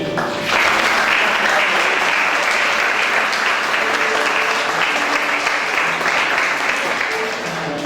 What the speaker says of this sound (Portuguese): Você pode aplaudir ao seu Deus?